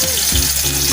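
Chopped onion frying in oil in a pan, a brief loud hiss of sizzling with a few soft bubbling tones, heard close up.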